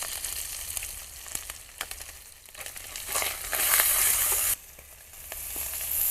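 Chicken with garlic paste, chili powder and cumin paste fries in a pan for chicken biryani, sizzling loudly while a spoon scrapes and stirs, the sizzle swelling then dropping off abruptly.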